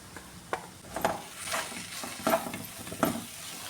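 Ground chickpeas fry in a pan, a soft, close sizzle broken by several scraping stirs in an irregular rhythm.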